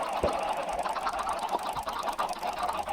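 Chickens in Minecraft, a blocky video game, cluck and squawk softly in a fairly quiet, steady stream of short calls over about three seconds.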